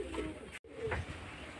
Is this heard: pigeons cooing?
yes